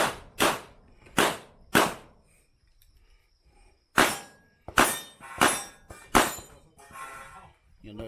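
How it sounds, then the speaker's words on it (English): Pistol shots ring out at a USPSA practical shooting match stage, several loud sharp reports spaced apart, then a faster string, each with a short ringing tail and faint steel clangs. "This is a pretty average dude shooting the stage."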